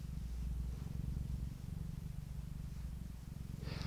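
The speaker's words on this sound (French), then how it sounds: "Ou tu nous fais encore un petit peu des ronrons" A cat purring steadily and close, a continuous low rhythmic rumble throughout with a faint rustle near the end.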